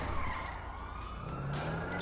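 A car in GTA V skids with a smooth, continuous tyre squeal over engine noise and a faint siren-like whine, moderately loud and with nobody talking.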